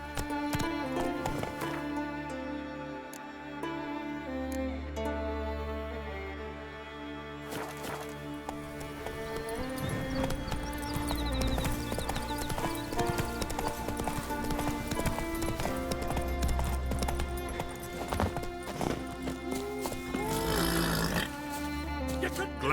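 Horses gallop in a race in the video game The Witcher 3, rapid rhythmic hoofbeats running under a layered orchestral game soundtrack, with the pounding growing busier and louder toward the end.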